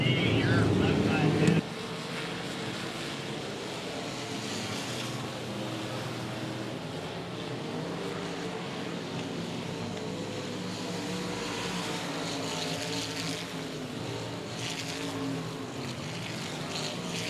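Limited modified race cars roar around a dirt speedway at 105 Speedway in a continuous distant engine drone, while an announcer talks over the race throughout.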